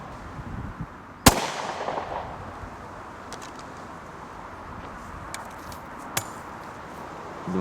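A single loud smoothbore shotgun blast fired at very short range cracks out over steady outdoor background noise, followed by a few faint distant pops and a later softer report.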